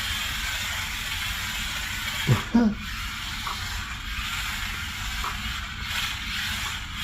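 A tiny Enoze Lightning Racing 1:43 scale RC drift car runs at full throttle, giving a steady gritty mechanical whir with a couple of brief squeaks near the middle and no talking.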